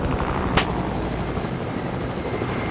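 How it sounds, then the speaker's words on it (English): Helicopter in an online shooter video game, a loud continuous rotor and engine drone filling the whole stretch, with one sharp crack like a gunshot early on and no speech over it. "you need to shoot at the helicopter. Shoot at the helicopter. It's right ahead of us."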